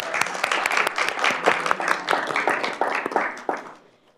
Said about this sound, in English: One more round of applause for Jade.